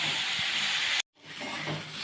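Green peas frying in a pan make a close, steady hissing sizzle that cuts out abruptly halfway through, then returns slightly softer.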